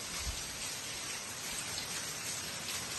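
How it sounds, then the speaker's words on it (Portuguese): Heavy rain pouring down during a storm in southern Brazil, a dense, loud, continuous hiss of water on surfaces with no talking. "Olha a chuva."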